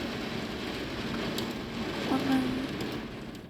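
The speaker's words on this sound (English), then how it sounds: "hailstorm right now" Hail and rain pouring down during a brief summer storm, a dense continuous patter and hiss, with a faint tonal squeal partway through and no clear talking.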